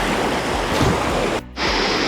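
River water flows at Kotabagh in a continuous loud rushing roar, close and broadband, with a brief dip near the middle before the steady flow resumes.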